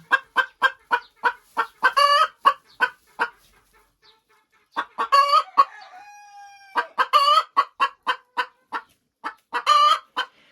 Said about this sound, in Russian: Это шелковые курочки.